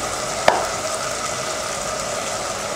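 Food sautés in a covered pan on the stove, a steady soft sizzle with one sharp clink near the start, close and without talk.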